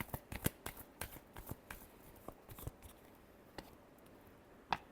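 Playing cards shuffled by hand for a final shuffle, a rapid run of soft riffling flutters and taps, quiet and close, with no talking.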